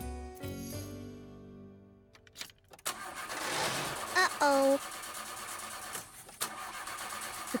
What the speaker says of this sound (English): The car doesn't like the cold weather.